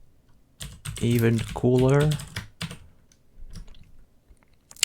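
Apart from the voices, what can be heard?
typing on a computer keyboard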